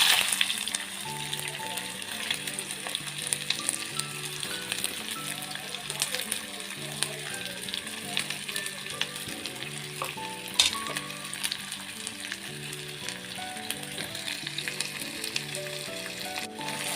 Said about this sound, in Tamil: எண்ணெய் நல்லா சூடானதுக்கப்புறம் இந்த வெங்காயத்தை பொரிச்சு எடுத்துக்கலாம்